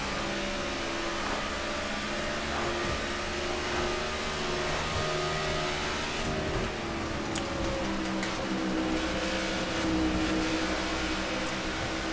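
NASCAR stock car engine at Pocono in NASCAR The Game: Inside Line: a steady, droning high-rev engine roar held at constant loudness, with a slight pitch shift and faint mechanical whine partway through, and no talking.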